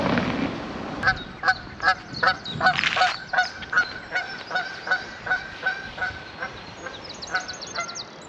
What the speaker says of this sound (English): that's the same goose that just flew over our heads going in the opposite direction